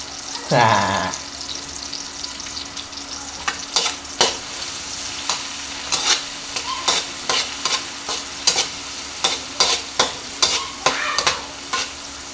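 Dried anchovies (dilis) and egg sauté in a pan with a steady sizzle after an initial sharp hiss, while a spatula scrapes and stirs in repeated close, crisp strokes.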